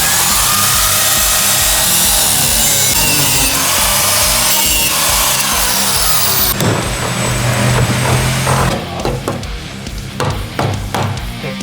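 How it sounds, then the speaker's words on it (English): Angle grinder fitted with a metal-cutting blade grinding nails off framing during a load-bearing window relocation, a loud continuous harsh whine and scraping that shifts in tone partway through and grows more broken and rough toward the end. "So I'm just gonna take a grinder with a metal blade"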